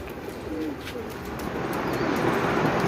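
Pigeons coo outdoors while a flock of flying pigeons returns from above, the soft cooing mixed with steady background noise that grows slightly louder toward the end.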